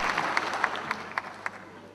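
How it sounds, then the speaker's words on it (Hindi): Applause from the audience at a Hindi kavi sammelan poetry recital in Jaipur, honouring poetess Poonam Verma; a steady wash of clapping with a few sharper claps standing out, moderately loud and without speech. "आप जोरदार तालियां पूनम वर्मा के सम्मान में एक शानदार गीत के लिए"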